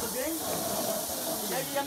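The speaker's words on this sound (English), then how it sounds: "I can still hear it spraying. It's still going." A steady, forceful hiss of water spraying from a broken sink runs unbroken throughout, loud and close.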